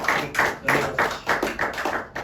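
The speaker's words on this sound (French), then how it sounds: "And I want you to clap the Lord strong." A church congregation claps in quick, even succession, about eight sharp claps over a couple of seconds, close and fairly loud with no voices over them.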